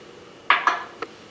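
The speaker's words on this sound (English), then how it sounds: "Scrape out all that you can" A utensil scraping custard cheesecake topping from a bowl, three sharp clinks in close succession against the bowl, with quiet room tone before and after.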